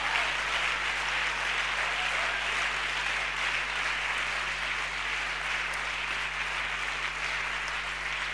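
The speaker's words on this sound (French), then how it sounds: "give the Lord a thunder of hand clap?" A church congregation claps together in a sustained round of applause lasting the whole stretch, dense and steady, with a constant low electrical hum underneath.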